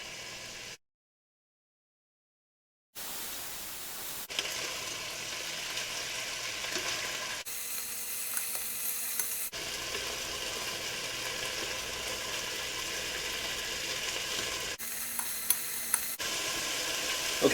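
Chicken sears in a skillet with a continuous, even sizzle and faint crackles at close range, broken by a brief silent gap near the start.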